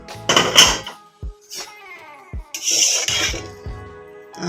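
A metal lid comes off a pot of cooking pongal with moong dal: a bright clatter and scrape, then several ringing metallic clinks that decay one after another, and no talking.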